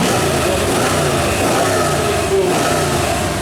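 A Bizzarrini 5300 continuation race car's V8 engine runs with a loud, steady, dense rumble throughout, close and continuous.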